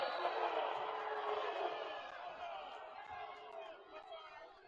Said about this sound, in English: Flinttown crowd does not like it